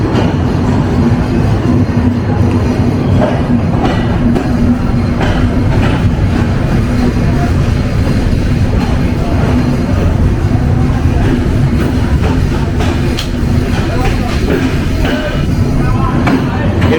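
The 754 SilkCity Express intercity train between Rajshahi and Dhaka in Bangladesh rumbles steadily along the rails, loud continuous wheel noise with faint rhythmic clatter, heard from on board with a voice talking over it.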